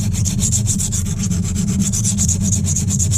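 Knife blade skipping across a silicon carbide sharpening stone, a loud, rhythmic, close scraping rub repeating in quick, even strokes of about three per second, with no talk.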